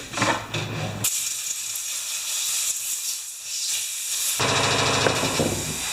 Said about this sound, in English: spray this out too.